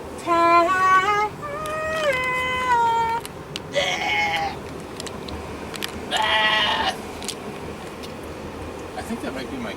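A person imitates a goat's bleat in a kitchen, giving several wavering, harmonic bleats in bursts with pauses between them, loud and close.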